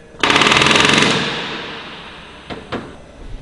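A rapid burst of pneumatic rivet gun hammering on Avro Lancaster NX611 starboard wingtip skins for about a second, followed by two sharp metallic knocks, close and loud.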